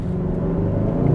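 A 2023 Kia K5 GT sedan in Sport Plus mode, shifted with paddle shifters, accelerates with a steady, close engine rumble and drone, with no talking.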